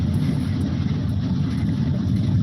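A car with a 5.9-liter engine, the same size as in a Durango, driving past with a steady, loud low engine rumble that holds constant throughout, with no voices over it.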